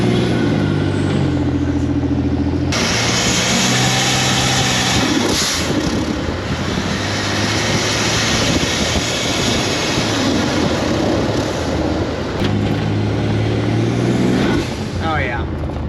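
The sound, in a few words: truck turbo junkyard engine idling and revving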